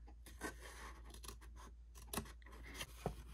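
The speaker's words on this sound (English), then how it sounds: "the first thing that you're going to do is to cut right here" Scissors cut paper for a junk journal: a series of quiet, crisp snips up close, irregularly spaced over a few seconds with faint rustling between and no talking.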